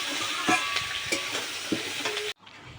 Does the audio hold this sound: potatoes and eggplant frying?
yes